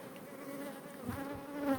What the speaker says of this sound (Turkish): Al şu arıları.